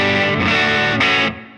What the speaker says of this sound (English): that's the sound you're going to use pretty much for all your old school guitar playing